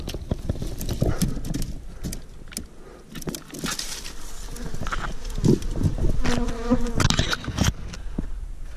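Honey bees pour out of opened mating nucs beside a vehicle in southern Utah, a dense close buzzing with irregular louder swells and occasional knocks and handling sounds, no voices.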